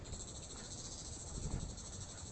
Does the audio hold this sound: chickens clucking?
no